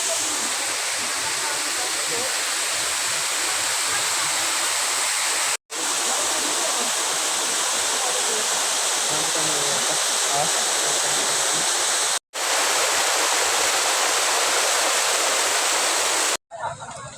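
A loud, constant rush of Balagbag Falls fills the whole stretch, broken by a few brief cuts to silence.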